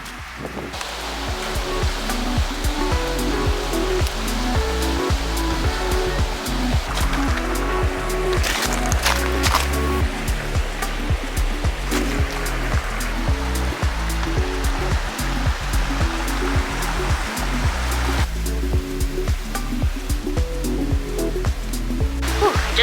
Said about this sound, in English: It's really loud because we're right by a river